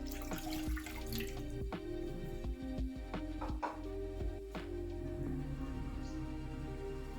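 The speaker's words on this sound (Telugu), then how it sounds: "దీంట్లో ఇప్పుడు వాటర్ పోసుకొని" Water pours steadily into a pan set on a lit stove, a continuous splashing stream with a few drips, close and fairly loud, and no talk over it.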